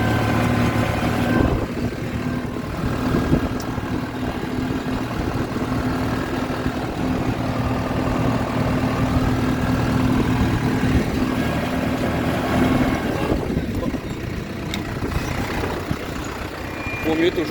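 Tractor pulling a tine harrow slowly, about 3 km/h, through a field of snow peas, giving a steady, continuous engine drone with a low hum throughout.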